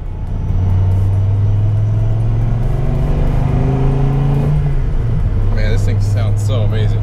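Stock 2002 Dodge Viper GTS Coupe with factory exhaust, heard from inside the cockpit as a loud deep steady drone that rises slowly in pitch and then settles back down near the end.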